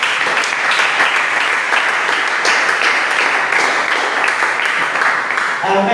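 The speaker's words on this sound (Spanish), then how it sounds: "Démosle un aplauso al Señor Jesucristo." Church congregation applauding, a dense and steady wash of clapping from many hands that fills the room for the whole stretch, loud and close.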